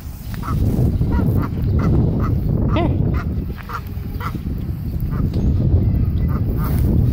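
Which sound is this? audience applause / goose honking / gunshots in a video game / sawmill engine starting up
goose honking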